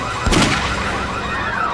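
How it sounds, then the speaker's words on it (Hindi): A single sharp gunshot rings out with a short echoing tail in a tense crime-drama scene, followed by lingering reverberant background noise and no talk. "किसने गोली चलाई?"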